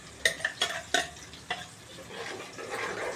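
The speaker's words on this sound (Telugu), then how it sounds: "మొత్తం ఇట్లా మిక్స్ చేసుకోవాలి." Spoon scraping and stirring curry paste with added water in a pan for mirchi ka salan, a series of sharp clicks and scrapes early on, then a softer, steady mixing swish close by.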